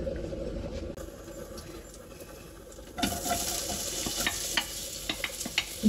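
Cumin seeds sizzling and crackling in hot coconut oil in a pan for a paneer curry, a steady low frying hiss that grows louder and busier partway through, with sharp little pops and stirring scrapes toward the end.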